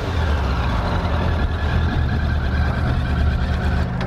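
A 2005 Suzuki Katana GSX600F with its factory exhaust idles steadily, a continuous low engine rumble with a constant hum and no voices.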